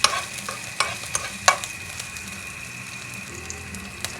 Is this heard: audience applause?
no